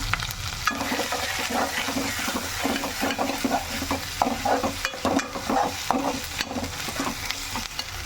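Salt and half a spoon of turmeric are stirred through hot oil in a pan for chicken curry, giving a steady, loud sizzle broken by repeated scraping strokes of the spoon.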